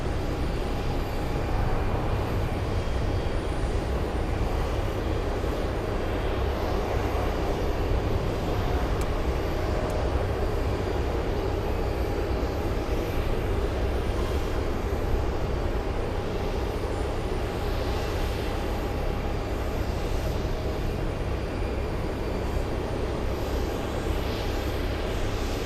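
An El Al airliner takes off from a short runway at Boston Logan International Airport, its engines a dense, unbroken roar that holds at a steady level from start to finish.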